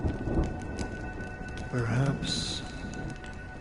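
Rain falls with a rumble of thunder in the video game Honkai Star Rail, a steady wet hiss under a low roll while a voice speaks briefly.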